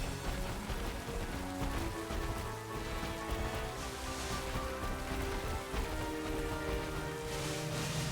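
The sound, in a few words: rain falling in the video game Pokémon Scarlet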